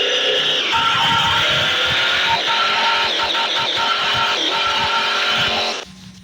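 A car driving in the mobile video game Chicken Gun: a steady, loud engine drone with skidding, tire-squeal-like tones and dense game effects, running continuously before cutting off near the end.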